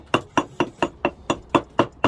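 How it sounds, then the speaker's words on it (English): A hammer strikes stone eight times in a steady rhythm while trimming its edge for laying, each blow giving a sharp, close, ringing knock. "you use this side of the hammer, not the pointed side"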